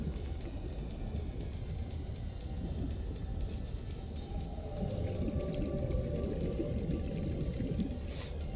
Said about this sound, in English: Is that the glow whales or is that something else?